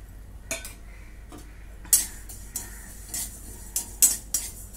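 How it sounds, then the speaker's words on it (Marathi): A metal spoon stirs cumin and sesame seeds dry-roasting in a kadhai, giving sporadic sharp clinks and scrapes against the pan over a quiet, faintly sizzling background. "तीळ चांगले चटचट उडेपर्यंत भाजून घेते."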